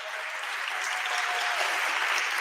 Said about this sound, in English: Please have an applause for them